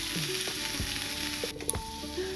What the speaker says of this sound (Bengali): 1 কাপ টুকরো করা নারকোল আর 3 চা চামচ পোস্ত আর 4-5টা কাঁচা লঙ্কা একসাথে বেটে নিয়ে কড়াইয়ের ভেতর দিয়ে দেবো